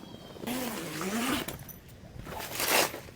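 A zipper runs along the detachable floor of a Kudi Wave air tent, a close rasping pull followed by further scraping fabric movement and another zip stroke.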